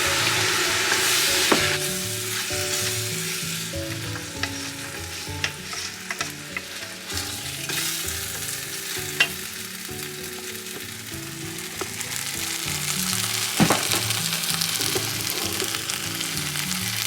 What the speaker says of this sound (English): stirring it and frying it for like a minute before adding our chicken broth